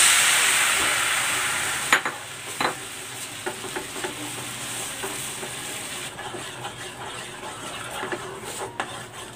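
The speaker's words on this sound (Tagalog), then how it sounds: "Ibubuhos ko na dito yung ginawa kong sauce" Homemade sauce poured into a hot pan for tofu steak bursts into a loud hissing sizzle that settles into steady frying crackle, with a few clinks and stirring knocks, close up and without talk.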